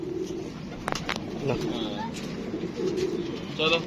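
A ringed pigeon gives soft, throaty coos in short repeated phrases, close by, while someone talks over and between the calls.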